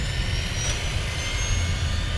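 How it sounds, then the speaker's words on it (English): A steady droning video game helicopter engine roars continuously with a low rumble and high whine, constant and fairly loud throughout. "this is his helicopter"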